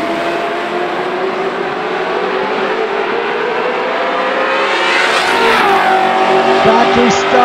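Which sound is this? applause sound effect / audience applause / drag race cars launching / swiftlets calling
drag race cars launching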